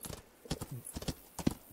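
Horse hooves clip-clop at a walking pace in the video game Rising World, a quiet run of irregular soft thuds and taps heard alone.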